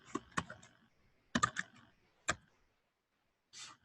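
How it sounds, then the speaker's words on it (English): Keys on a computer keyboard are typed in short, sparse bursts of crisp clicks with pauses between them, close by and fairly quiet, with no one talking. "I got to type an equal sign."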